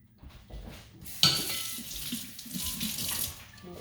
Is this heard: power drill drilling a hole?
no